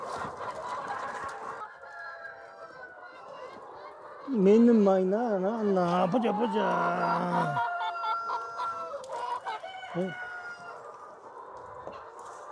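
Chickens in a poultry farm coop with a walled-off laying room; clucking and a strong harmonic crowing or squawking call in the middle, over a bustling flock, while a person talks briefly.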